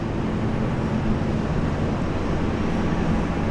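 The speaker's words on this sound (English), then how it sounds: "A380 coming in from Honiara." A Solomon Airlines A380 airliner arriving at Brisbane airport makes a steady, loud, broadband jet rumble and roar that holds constant through the short stretch.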